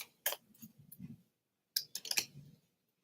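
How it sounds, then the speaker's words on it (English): Tarot cards shuffled by hand at a live reading, giving two short bursts of crisp riffling clicks and flicks, close up and fairly quiet, split by a brief pause, with no talking. "And then I'll start shuffling."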